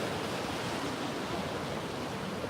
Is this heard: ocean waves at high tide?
yes